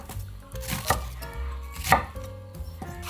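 Knife chopping fish cake on a cutting board for tteokbokki, with a few distinct, fairly loud chops spaced about a second apart over a low kitchen background; no talking.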